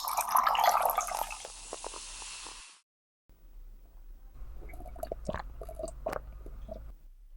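A Speed energy drink gives a bright fizzing hiss that stops abruptly, then after a brief silence comes close, wet sipping and swallowing with small liquid squishes and gulps.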